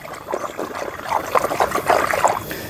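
Pesticide solution for chili plants being stirred in a container before going into a sprayer tank, a steady close liquid sloshing and trickling that builds slightly toward the end, with no talk.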